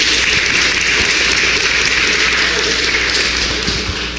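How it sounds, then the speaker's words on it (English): Audience applause fills a hall at a national reparations convention, a steady dense wash of clapping that holds for several seconds and fades slightly at the end, with a faint voice underneath. "Give yourself a round of applause"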